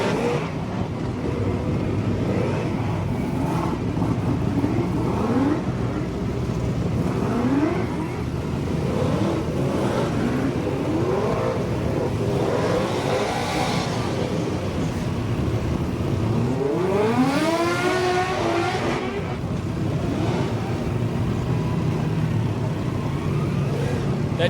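Zach Lawrence's 22B superstock race car roars around Meeanee Speedway in Hawkes Bay during a saloon championship race, its engine note rising and falling through repeated revving sweeps, loud and continuous among other engines and crowd noise.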